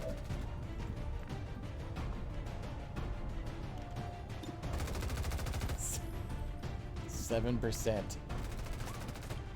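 Rattling bursts of gunfire from soldiers in the video game XCOM 2, a dense run of shots midway followed by a few sharp impacts, heard under game effects and someone talking.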